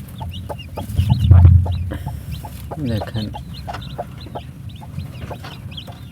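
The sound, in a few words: hen clucking with her newly hatched chicks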